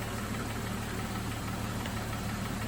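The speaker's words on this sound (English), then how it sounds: "right now I can hear the fan running" A Jeep's two-speed radiator cooling fan running at steady speed, a continuous whirring hum blended with engine drone, constant and moderately loud with no talk.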